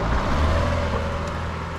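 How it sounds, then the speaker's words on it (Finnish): A lone car passes along a deserted street under quarantine lockdown in Spain, its low engine and tyre rumble fairly close and steady before easing slightly, with no other traffic around. "Joitain yksittäisiä autoja täällä menee."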